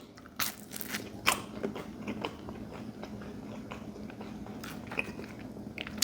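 Close, crisp bites and chewing on New York pizza crust, with several sharp crunches followed by softer, irregular mastication and faint crackles, no talking.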